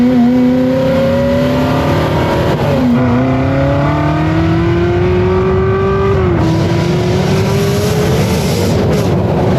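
A loud Ferrari 360 sports car engine heard from close by, its pitch climbing through revs, dropping briefly, then rising again in a sustained high whine.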